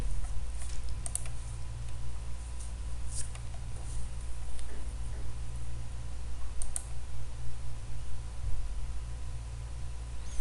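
Mouse clicks on a computer while working in an Excel spreadsheet, sounding as sharp, close clicks scattered over a steady low hum, with a few louder clusters and no talking.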